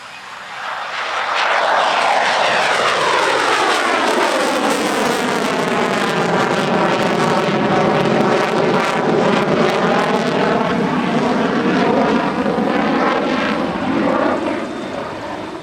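Danish Air Force F-16 jet in a special Dannebrog anniversary paint scheme flying a pass at the Radom airshow, a loud roar that builds, sweeps overhead with a falling pitch sweep, then holds strong for the rest of the pass.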